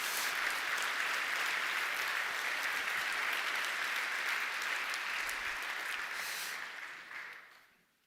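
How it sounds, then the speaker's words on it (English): A conference audience at a Checkmk event applauds, a steady dense clapping that holds for several seconds before fading out at the end. "So a little applause for him."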